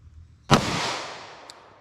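A single .45 ACP pistol shot fired outdoors at a windshield, using Hornady Critical Duty ammunition: one sharp, loud report with a long echoing decay fading over more than a second.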